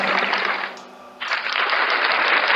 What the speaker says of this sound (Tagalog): Palakpakan natin ang Panginoon.